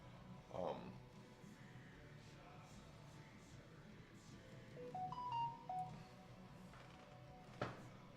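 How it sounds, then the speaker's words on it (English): Notification chimes from a streamer's computer ring out as short tonal beeps, a cluster of rising and falling tones midway, under faint room noise with occasional talk. "Let me turn down my notifications."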